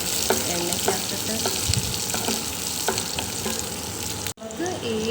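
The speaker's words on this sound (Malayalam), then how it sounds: "നമുക്കങ്ങനെ ഇളക്കി കൊടുക്കാം. അപ്പോഴത്തേക്കൊന്ന് നല്ലതായിട്ട് പിടിക്കും എണ്ണയ്ക്കകത്തിട്ട്." Food sizzles steadily in hot oil in a home kitchen while pointed gourd curry is being prepared, with a spoon scraping and clicking against the pan at a regular pace.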